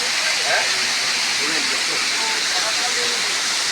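Constant broad rushing roar of a waterfall, loud and unbroken throughout, with faint voices talking underneath.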